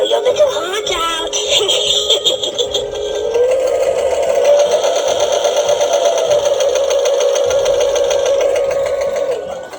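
A sewing machine runs in a steady, loud mechanical whir with a fast rhythmic stitching rattle, speeding up after a few seconds and holding near the microphone, with brief talk at the start.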